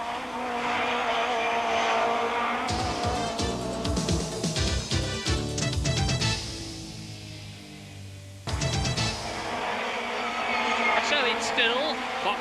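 Vauxhall Cavalier and BMW touring cars race nose to tail in the 1991 British Touring Car Championship. Loud engines roar past, with revs rising and falling, a brief dip and then a renewed surge, while a commentator talks over the action.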